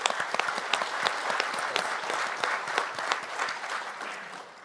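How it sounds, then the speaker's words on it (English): A conference audience applauds steadily, many hands clapping in a dense patter that tapers slightly toward the end. "I would like to give her a round of applause for what she did"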